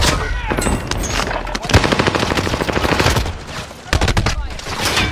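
Loud, close automatic gunfire in the Warzone Rebirth Island video game, with rapid bursts of shots rattling almost continuously and a short break near the end.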